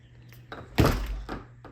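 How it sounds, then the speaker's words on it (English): A door that won't latch, fitted with longer screws, is swung shut, landing as one solid thunk with a brief rattle after it, close and fairly loud in a quiet room. "Let's see what happens if I close the door."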